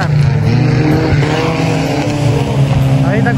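Off-road 4x4 race vehicles compete on a dirt track at a regional event in the Ecuadorian highlands, their engines droning loud and steady throughout under crowd noise.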